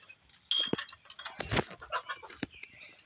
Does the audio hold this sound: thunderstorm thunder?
no